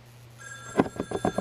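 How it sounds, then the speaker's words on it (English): A telephone rings inside a family home, a short run of bright, repeated ring bursts sounding fairly close and clear, with no one talking over it. "Then the phone rang."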